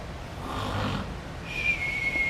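A storyteller voices a rabbit falling into a deep sleep, imitating its snoring with a soft breathy rumble and a thin whistling tone, close and gentle, with no other talk.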